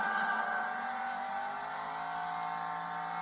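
A race car engine in the video game Hot Wheels World Race, holding a steady high-pitched whine with a slight drift in pitch, continuous and fairly close.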